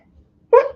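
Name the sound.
sneeze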